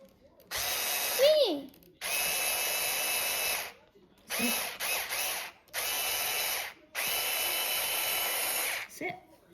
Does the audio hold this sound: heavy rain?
no